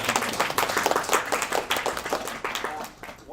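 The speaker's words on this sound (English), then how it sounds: "One more round of applause to our speakers." Audience applause for speakers at an Earth Day data visualizations presentation event, a dense, steady patter of many hands clapping that fades slightly near the end, with faint voices mixed in.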